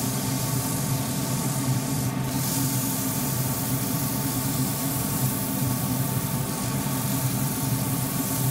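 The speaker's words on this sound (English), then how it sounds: "Softening that corner with sanding." Steady abrasive rubbing of sandpaper against a spinning forest sheoak flat box over the constant hum of a running lathe motor, with no speech.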